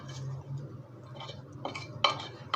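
Popcorn coated in caramel being stirred in a hot pan, with soft scraping at first and then a few sharper clinks and knocks of the utensil against the metal, all close by and fairly quiet.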